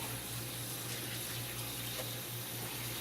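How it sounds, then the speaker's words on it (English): Tap water runs steadily into a sink during handwashing in a kitchen, a constant even hiss over a low hum, with no talking. "Now wash and sanitize our hands here, because we have to deal with this meat."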